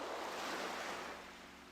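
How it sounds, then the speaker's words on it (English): Relaxing ocean surf ambience in a VRChat world, a soft continuous wash of breaking waves with light wind hiss, fading slightly toward the end, no voices. "This one has a nice, relaxing ocean sound."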